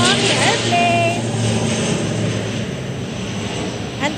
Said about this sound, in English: You know, the airplane.